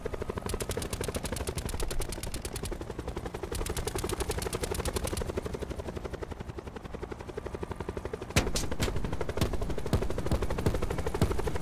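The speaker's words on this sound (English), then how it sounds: "Can you shoot that helicopter" Helicopter in Call of Duty Blackout video game, a steady rapid rotor chop that persists throughout, joined near the end by a louder burst of gunfire.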